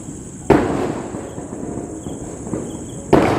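A Diwali flowerpot firework (pushvanam) at a new house: two sharp bursts about two and a half seconds apart, with a steady hiss and crackle between them, close and fairly loud, no voices.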